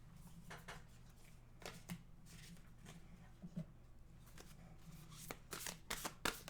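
Quiet shuffling of a deck of oracle cards, a soft continuous riffling broken by occasional sharper card snaps, close by and gradually growing louder toward the end.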